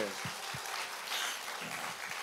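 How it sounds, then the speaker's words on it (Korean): A church congregation claps steadily in a dense, continuous patter, with a few low thumps and faint voices underneath. "박수하겠습니다"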